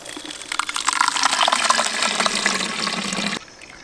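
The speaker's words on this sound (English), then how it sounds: "Now add more water to it." Water pours steadily into blended ginger, a gushing, splashing fill that builds over a few seconds and then cuts off sharply near the end.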